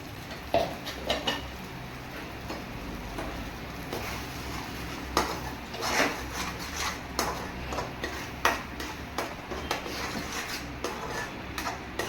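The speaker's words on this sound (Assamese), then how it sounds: "এনেকৈ অলপ কিছু সময় লৰাব লাগিব।" A spoon scrapes and taps around a kadai as spice paste fries, with irregular metallic clinks over a faint sizzle, fairly quiet and close; no voices.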